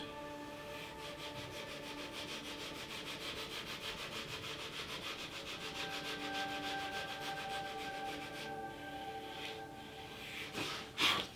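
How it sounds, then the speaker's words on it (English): Steady, rhythmic rubbing of a sandpaper block on a curved leather wallet edge, a soft continuous scratching that runs on without talk and ends with a few louder scuffs. "Start by sanding this curve nice and smooth."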